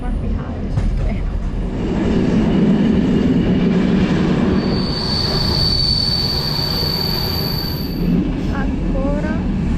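Bulgarian passenger train in motion between stations, wheels squealing in long steady high tones over a continuous loud rumble and clatter of the carriage, heard from inside.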